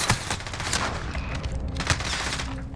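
Suppressed Mini UZI fired from the hip in Call of Duty Modern Warfare, a steady rapid burst of muffled gunfire running loud and continuous throughout, with sharper peaks near the start and late in the string.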